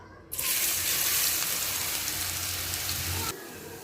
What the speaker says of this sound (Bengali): এবার কেটে রাখা আমগুলো দিয়ে দিব তেলের ভিতর